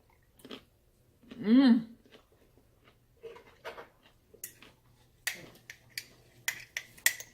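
Crunchy chewing of sauerkraut and sausage with noodles close to the mic, a few brittle bites and crackles scattered among quiet pauses, with a short vocal sound early on.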